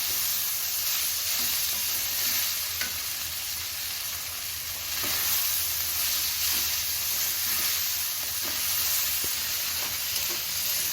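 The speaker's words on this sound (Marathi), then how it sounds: "आता आपण यात भिजलेल्या कुरडया ह्या टाकणार आहोत. छान असं आपल्याला परतून घ्यायचं आहे." Soaked kurdai sautéed with onion in a pan produce a loud, dense, unbroken hiss of sizzling oil with faint occasional stirring taps.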